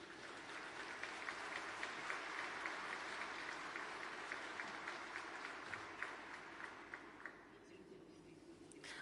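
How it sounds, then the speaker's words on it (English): An audience at an economic forum in St. Petersburg applauding in steady, dense clapping that carries on at moderate distance, then begins to thin out toward the end. "Nobody asked them to clap and to applaud."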